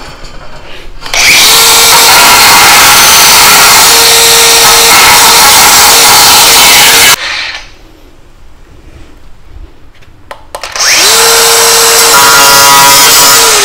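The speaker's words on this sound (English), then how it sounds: "I want to grind off these other pieces" An angle grinder cuts off leftover metal pieces in loud sustained bursts with a steady whine, stopping for a few seconds of quieter shop noise before spinning up again at full volume.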